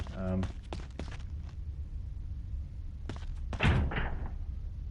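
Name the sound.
locked door being tried in Resident Evil video game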